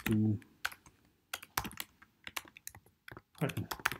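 Keystrokes clack on a computer keyboard in irregular bursts and pauses, with a short hum at the start and another near the end.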